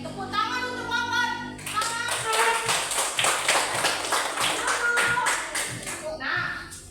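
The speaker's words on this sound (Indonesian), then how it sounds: "tepuk tangan untuk Wawan" A fifth-grade class claps for a student, children's voices rising first, then a run of crisp, rhythmic group claps close by, with more young voices chiming in near the end.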